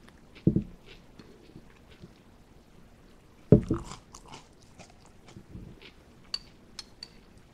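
Magic Spoon cereal being crunched: two sharp, loud bites spaced about three seconds apart, each followed by softer chewing crackles, close to the mouth with no talk.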